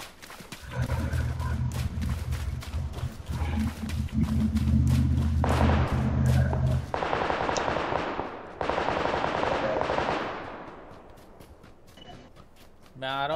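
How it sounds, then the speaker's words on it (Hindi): In a PUBG Lite match, rapid gunfire crackles in dense bursts of sharp shots over a low rumble, thinning out toward the end. "ओ भाई सामने से गोली आ रही है"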